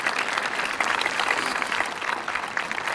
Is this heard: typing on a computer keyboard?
no